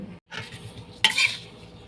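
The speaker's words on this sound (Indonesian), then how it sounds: "Mau tumbuk sedikit-sedikit, caranya kayak gini." Stone pestle pounding spices in a mortar for a Betawi carp dish with roasted coconut spice paste: a couple of sharp, close knocks and clatters, with no talking.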